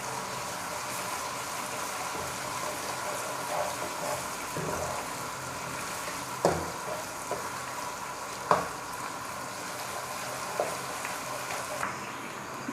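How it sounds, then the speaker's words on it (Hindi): Ginger garlic paste fries in a pan for an egg dum biryani, a close continuous sizzle with a few sharp scrapes and knocks as it is stirred. "अच्छी तरह से भून लेना।"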